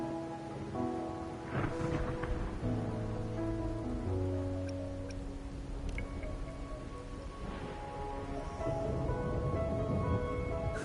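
Steady rain pours in the video game Wuthering Waves, a constant hiss of falling drops that runs the whole time beneath sustained, layered music notes.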